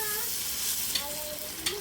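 Potatoes fry in hot oil with a dense, steady sizzle. Faint clinks of a utensil sound against the pan.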